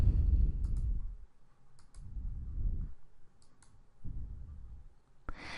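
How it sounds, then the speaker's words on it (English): Computer mouse clicks on a drop-down arrow and checkboxes come as a few sharp, close clicks, some in quick pairs, over a low background rumble. "select the grade from the position being advertised by clicking the drop-down arrow and clicking the checkboxes"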